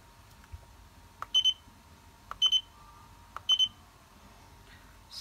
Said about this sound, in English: Also you will hear the buzzer. I use the buzzer to notify.